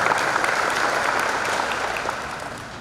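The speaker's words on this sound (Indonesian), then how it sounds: "Tepuk tangan untuk futsal dulu." A hall full of people applauds at the opening of a futsal player selection event, a loud, even wash of clapping that slowly tapers off toward the end.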